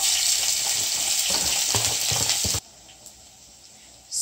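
Onions fry in cooking oil in a pot with a loud, dense sizzle and some stirring clatter, then the sound cuts abruptly to near quiet before rising again.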